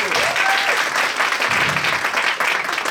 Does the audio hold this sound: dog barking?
no